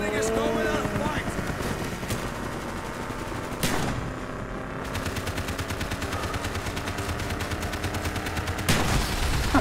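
Rapid bursts of automatic gunfire and single shots in Call of Duty: Black Ops during the Vorkuta prison escape, loud and dense, almost continuous, with chatter under the shooting.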